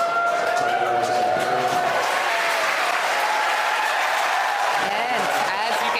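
Crowd applause and cheering fill the room after a Falcon 9 first stage lands on a drone ship at sea; the clapping is loud and sustained for six seconds, with voices and a steady tone under it.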